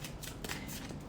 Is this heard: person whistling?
no